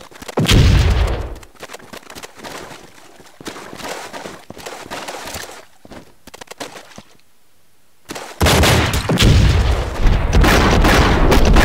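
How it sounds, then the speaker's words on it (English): Grenade blasts in the video game Enter The Matrix: a loud booming explosion at the start, a stretch of scattered crackling impacts and near-silence, then heavy rumbling blasts returning loud and sustained. "Oh my gosh, that stupid grenade."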